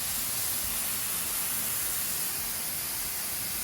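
Meat sears under pressing racks with a steady, even sizzle, a continuous close hiss without pauses.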